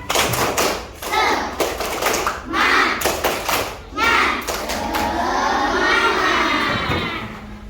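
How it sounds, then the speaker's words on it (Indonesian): Children in a classroom perform a rhythmic spirit clap, several bursts of sharp unison hand claps and thumps separated by short pauses, with kids' voices chanting between the claps. "Orang tepuk semangat dulu."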